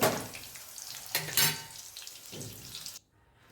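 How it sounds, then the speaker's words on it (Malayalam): Pieces of potato yam fry in a pan of hot oil with a close, steady sizzle. A couple of louder bursts sound like stirring, and the sizzle drops away abruptly near the end. "ഇനി ഇത് ലാസ്റ്റാണ്, അതും വറുത്ത് പോരാം നമുക്ക്."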